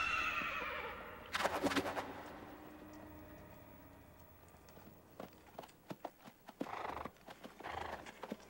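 A horse whinnies loudly near the start, then hooves clop unevenly on hard ground, a few scattered steps growing closer toward the end.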